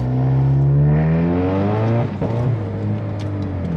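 Ford Mustang EcoBoost with its check engine light on, accelerating hard from a stop toward 60 mph; a loud, close engine climbs steadily in pitch, briefly dips around a gear change, then keeps pulling.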